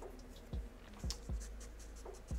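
A pencil scratches fold lines onto paper in a few short, quick strokes, close and soft, with small scraping taps in a loose rhythm.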